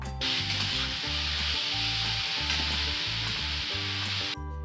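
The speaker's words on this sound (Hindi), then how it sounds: "अब घी हमारा मेल्ट हो चुका है, इसमें कटा हुआ एप्पल डाल देते हैं।" Chopped apple pieces hitting melted ghee in a kadhai give a steady, loud sizzle and fry that runs unbroken through the clip, with faint stirring scrapes and no voices.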